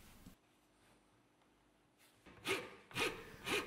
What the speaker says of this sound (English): With the bandsaw, I cut a semicircle where I'll place the body of the angle grinder.